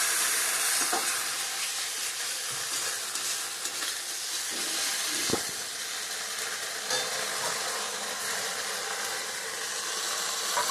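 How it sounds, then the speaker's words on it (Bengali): Ground ginger and cumin paste with spice water is sautéed and stirred in a pan for raw banana kofta, a steady close sizzle with occasional scraping and no talking. "মশলাটা ভালো করে কষে নিই।"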